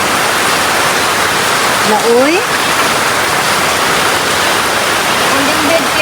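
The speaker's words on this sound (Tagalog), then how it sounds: "Wala, kusuking ulan." Heavy rain pours down in a dense, steady roar of hiss that fills the whole scene, with a voice briefly calling out over it.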